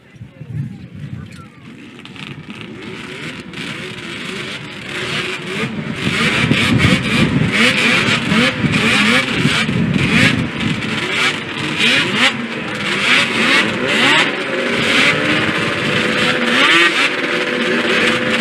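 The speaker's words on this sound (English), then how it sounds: "Gentlemen, start your engines." Several 440 snowmobile race engines at a championship final fire up and rev loudly together, their growling pitch rising and wavering as the roar builds and holds, with a voice briefly heard early on.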